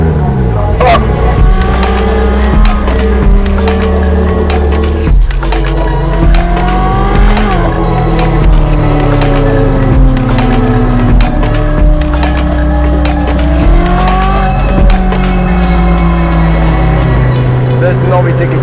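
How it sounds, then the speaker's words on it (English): Ferrari 458 Speciale fitted with a Novitec straight-pipe exhaust, driving in the Netherlands, its engine howling loud and near, rising and falling through revs with shifts, with voices talking over it. "This Novitec exhaust system for the 458 Speciale is very special."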